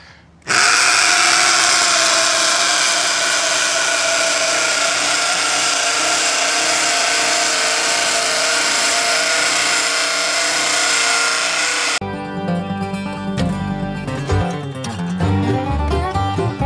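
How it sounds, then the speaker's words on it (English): A hammer drill bores a hole for electrical conduit in an off-grid solar build, running as a loud, continuous high-pitched whine with a hammering rattle for about eleven seconds before shifting to a rougher, straining stutter. "I think I have reached the limit of this hammer drill."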